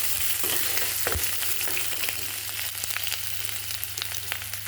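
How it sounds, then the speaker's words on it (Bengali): Grated ginger paste sautéing in a pan for a Bengali shukto, giving a steady close sizzle with scattered spatula scrapes and ticks throughout, with no talking. "আদাটা একটু কষে নিয়েছি"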